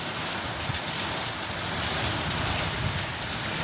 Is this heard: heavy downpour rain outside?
yes